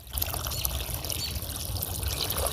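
Plants in a small garden being watered, a steady close pour and trickle of water hissing onto foliage and soil, continuous with no voices.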